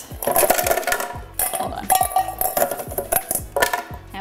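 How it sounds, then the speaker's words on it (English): A handful of ice dropped into a blender or glass for a pisco sour, clattering and clinking in several bursts, close and sharp, with a brief spoken remark. "And a handful of ice."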